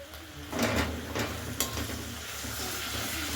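Milk and water are stirred into cooked spice paste in a pan for a pabda fish curry, giving a soft sizzle with a few scraping spoon strokes early on, then a steady low simmer.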